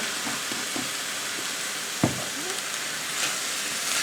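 About two teaspoons of store-bought garlic sizzle steadily in a pan for Italian sausage stew, a constant crackling fry with a single clear clunk of a spoon stirring partway through.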